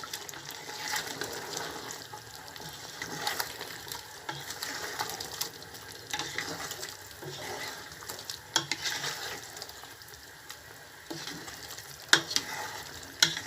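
Beef tripe with garlic, white pepper and ginger is stirred in a sizzling pan, with scraping and clinking at an uneven rhythm over a constant soft frying hiss, close and fairly quiet, and a few sharper knocks near the end.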